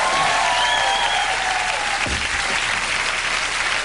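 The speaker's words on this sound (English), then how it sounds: "Hit that applause button" Studio audience on a late-night talk show with Johnny Carson breaking into steady, dense applause, loud and continuous, with a faint tonal hum and a brief low thump partway through.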